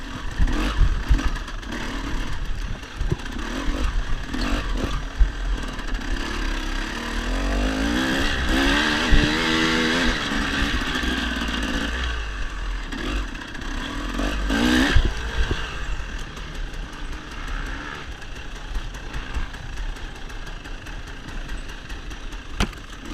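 An off-road dirt bike engine during a hare scramble race, revving up and down through gears with rising and falling pitch, loud and close throughout, with no talk.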